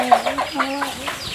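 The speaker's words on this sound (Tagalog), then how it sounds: "ayan, maraming sisiw. No, maraming manok" Several chickens cluck in short, overlapping bursts close by, with a rooster-like call mixed in and no voices.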